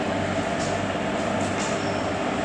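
Steady loud rumble of a train at a railway station, a dense, continuous rail-and-wheel roar that fills the whole stretch without pause, heard up close and with no voices.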